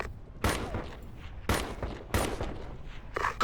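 Gunfire in the video game Ghost Recon Advanced Warfighter 2: three sharp, loud shots at roughly one-second intervals, each with a short echoing tail, then a fainter burst at the end.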